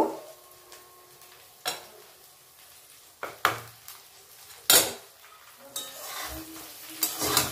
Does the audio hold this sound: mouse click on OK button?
no